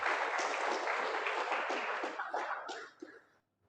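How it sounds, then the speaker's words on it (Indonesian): A crowd of staff and families at a halal bihalal gathering at Universitas Diponegoro in Semarang breaks into a dense wash of applause that holds steady, then thins out and fades away. "Tepuk tangan semuanya."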